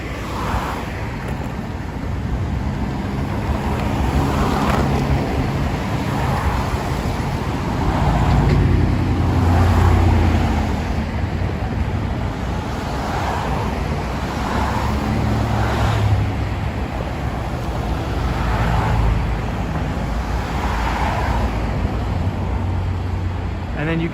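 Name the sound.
traffic on the Brooklyn Bridge on-ramp, New York City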